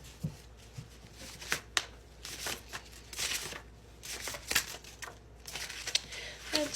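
A deck of tarot-style cards is shuffled by hand up close, producing soft, irregular riffling and flicking bursts spread over several seconds, fairly quiet, with brief talk in between.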